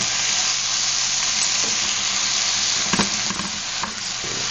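Eggplant sizzles steadily in a pan on a stovetop, a continuous dense frying hiss with a few soft stirring clinks and scrapes, close and fairly loud with no talking.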